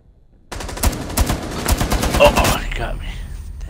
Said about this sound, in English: Still shooting at me.